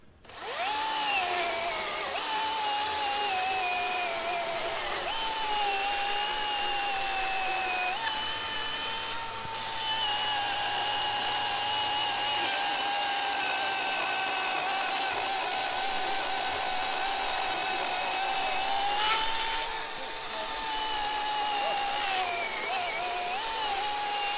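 A top handle chainsaw runs continuously at a steady high-pitched whine, with small dips and rises in engine speed, loud and close with no talking.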